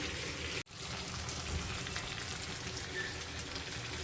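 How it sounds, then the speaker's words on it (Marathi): Pomfret fish frying in a pan with Agri masala, giving a steady, dense crackling sizzle close by after a brief cut near the start, with no one speaking. "पुन्हा आपण एक दोन मिनटं फ्राय करायला ठेवूया"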